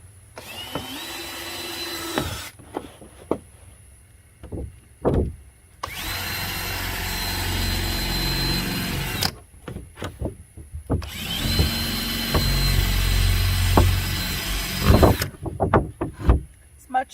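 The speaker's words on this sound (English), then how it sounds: "I'm going to drill about 10 holes in this so that we have" An electric drill boring drainage holes, three long whining bursts of several seconds each with steady motor pitch, separated by pauses filled with handling clatter and quiet talk.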